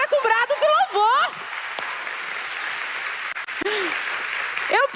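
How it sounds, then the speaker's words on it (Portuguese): A church congregation at a worship service breaks into sustained applause mixed with shouts of praise, steady clapping filling the space after a voice, with another voice rising again at the end. "é para aplaudir agora com brado de louvor"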